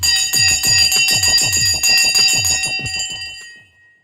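Loud electric bell ringing in a continuous rapid clatter with a bright metallic ring, running steadily for about three seconds before cutting off and fading out.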